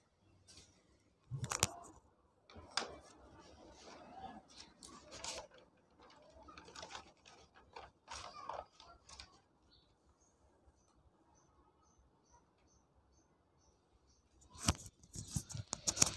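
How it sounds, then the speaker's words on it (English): Notebook pages turning in a quiet room, a few short papery rustles and flips spaced apart, fairly soft and close, with a louder cluster of rustling at the end. "Now I am turning the page."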